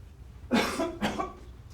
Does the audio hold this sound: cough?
yes